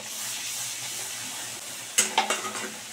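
Kasuri methi being stirred into a sizzling spice mixture in a pan, steady frying hiss followed by a few sharp metal spoon scrapes and taps, close up, no talking.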